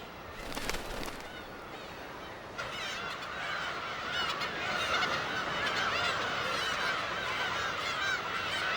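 Black-tailed gulls calling on Dokdo island, a dense flock of loud, overlapping nasal cries that starts with a few sharp calls and swells into a continuous chorus.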